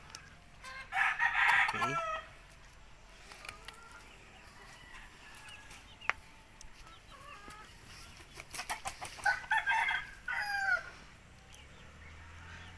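A 5K Sweater broodcock rooster crows twice, once early and again near the end, with clucks and farmyard bird calls in between, at moderate distance and fairly quiet. A voice speaks briefly.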